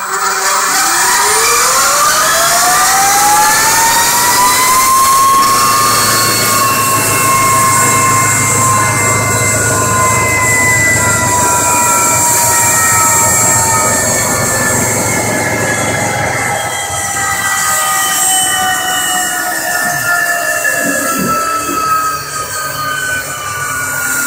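A DIY Zero electric motorcycle with a 75-5 motor runs on a dyno, and its loud electric whine climbs steeply in pitch, holds high, then fades away near the end over a constant roller drone, with no one speaking.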